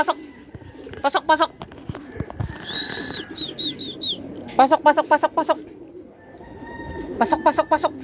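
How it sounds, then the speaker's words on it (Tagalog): Racing pigeons coo at the loft during a derby race arrival, with repeated bursts of cooing and chirps, some wing flaps, and people talking in the background throughout. "May ibon na tayo, si Tokmol"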